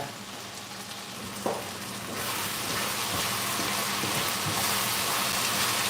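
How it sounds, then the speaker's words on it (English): Food being stirred and mixed together in a pot, a steady broadband sizzling, scraping wash that swells after a brief knock and holds loud and close to the end, with no talk. "I'm gonna mix everything together in this pot"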